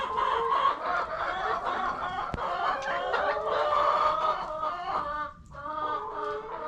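Rooster and chickens sounding continuously on a backyard homestead, layered clucking and crowing-like calls with a sharp click partway through, no talking.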